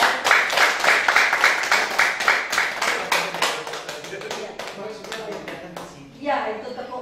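Group clapping in a rhythmic, evenly spaced pattern at a training session, sharp and close, slowing and thinning out before a brief swell of voices near the end.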